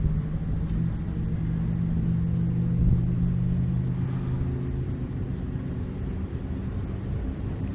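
An electric car accelerates hard, giving a steady, loud rumble with whining road and motor noise that holds throughout without any talk.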